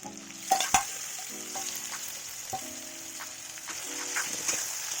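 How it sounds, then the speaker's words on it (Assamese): Marinated chicken sizzles and fries in a pan for a banana flower and chicken dish, a steady crackling hiss with a few sharp pops and stirring clatters near the start. "এতিয়া মেৰিনেট কৰি থোৱা মাংসখিনি দি দিম।"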